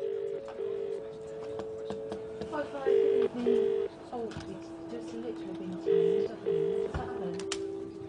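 A telephone rings when a phone box is called, repeated paired trills in a steady ring-ring cadence over a quiet line hum, with a voice briefly speaking between rings.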